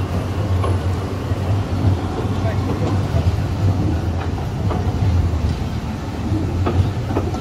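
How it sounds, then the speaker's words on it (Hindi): A city tram rolls through Zurich, a steady low rumble with rhythmic rail clatter at moderate distance and no talk over it. "पूरे शहर में ट्राम चल रही है।"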